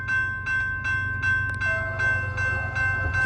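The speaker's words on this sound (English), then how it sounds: "here comes an eastbound train on track 1" An eastbound train approaches on track 1, a steady low rumble carrying a sustained tonal ringing that holds evenly throughout.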